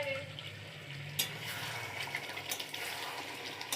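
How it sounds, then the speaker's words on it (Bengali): Meat braising (kosha) in a pan for a Holi meal gives a soft, steady sizzle with occasional scraping stirs, faint and close, with a brief voice near the start. "এই যে এখন মাংস কষানো হচ্ছে।"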